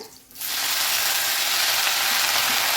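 Mint leaves dropped into hot oil in a pan for coriander mint chutney: after a brief quiet moment, a sudden loud sizzle bursts up and holds steady, close and continuous.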